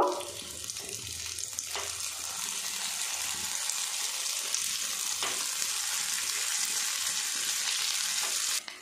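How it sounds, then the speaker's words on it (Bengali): A steady, close sizzle of egg and brinjal koftas frying in a pan, a continuous crackling hiss from start to finish with a few soft clicks and no voices. "উল্টে পাল্টে বেগুনের কোপ্তাগুলো কিন্তু আমার ভাজা কমপ্লিট হয়ে গেছে।"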